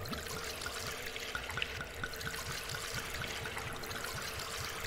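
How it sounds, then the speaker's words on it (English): Gasoline glugging steadily from a can into a generator in the horror video game Darkwood, a continuous liquid pour with a rhythmic gurgle running the whole time, fairly close and with no talk over it. "generator is out of gasoline, so we're going to need to pour some gasoline in"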